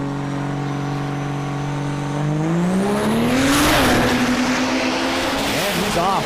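A diesel drag racing truck at an NHRDA event in Tulsa launches down the strip, its engine whining steadily, then surging loudly as it pulls away, with a commentator talking over it.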